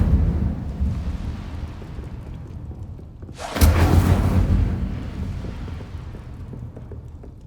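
Incendio fire spell cast in the Hogwarts Legacy video game, a sudden deep whooshing burst of flame that flares loudly for about a second and then fades into a low rumbling tail over a quiet ambient background.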